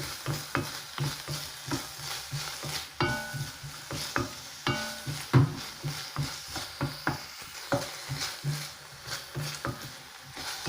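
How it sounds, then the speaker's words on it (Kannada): Garlic and ginger paste sizzles in a pan while being stirred, a close, crackling fry broken by rhythmic scraping strokes every second or so, with no voices over it. "ಗಾರ್ಲಿಕ್ ಪೇಸ್ಟ್, ಜಿಂಜರ್ ಪೇಸ್ಟ್ ಸ್ವಲ್ಪ ಫ್ರೈ ಮಾಡಬೇಕು."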